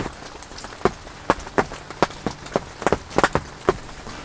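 Rain patters on surfaces outdoors during a public-land deer hunt, with scattered sharp drips and taps landing irregularly over a soft background hiss, fairly close.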